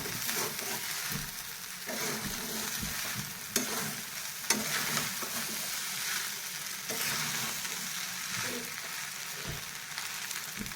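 Sabudana khichdi being stirred in a hot pan, a steady close sizzle with soft scraping strokes and a few sharper clinks of the spoon against the pan, continuous throughout with no talking.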